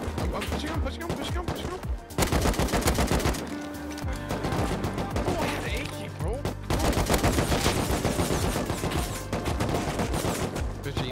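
AK rifle gunfire in the Rust video game, loud rapid automatic bursts repeating almost continuously across the clip with short gaps, amid busy game action.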